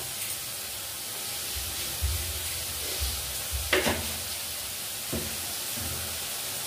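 Food frying in a pan with a steady hiss throughout, broken by a few scraping stirs and light knocks, no talk.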